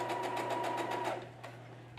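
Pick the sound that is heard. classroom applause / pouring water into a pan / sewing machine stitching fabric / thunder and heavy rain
sewing machine stitching fabric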